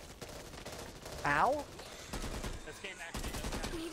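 Gunfire in the video game Back 4 Blood, rapid automatic bursts crackling through most of the clip at moderate loudness, with a player's brief shout cutting in partway.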